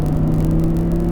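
Audi R8 engine under throttle, a steady loud droning hum with strong low tones held evenly through a short burst, no talk over it.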